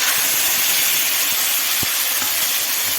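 Bay leaves, dried and green chillies, ginger and tomato paste sizzle in hot oil in a kadai, a loud, dense, steady hiss with faint crackles and no voices.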